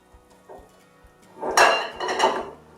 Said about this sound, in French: vous allez dédoubler du coup le liquide dans 2 bols différents